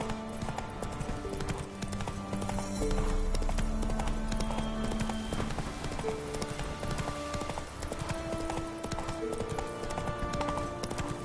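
Roach, Geralt's horse in The Witcher video game, gallops in a steady clip-clop of hooves over a dense bed of music, loud and sustained throughout.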